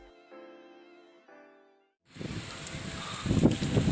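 Steady rushing wind buffets a vivo Z1 Pro phone microphone, a loud, rough roar that sets in abruptly after a quieter stretch of soft tones.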